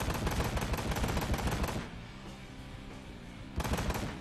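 Rapid gunfire in the Ride to Hell: Retribution game: a loud burst of quick repeated shots, a short pause with quieter background, then another burst resumes near the end.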